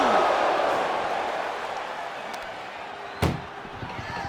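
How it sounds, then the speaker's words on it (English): In the WWE 2K25 video game, an ambulance door slams shut with a single sharp bang late in the moment, after a stretch of fading crowd noise. "Trying to at least slam one door shut."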